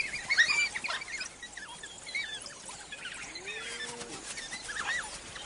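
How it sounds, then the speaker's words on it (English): African wild dogs on a hunt give a scatter of high, bird-like chirps and twitters, faint to moderate, over a soft outdoor background. "Prey can mistake these sounds for chirps from a harmless flock of birds."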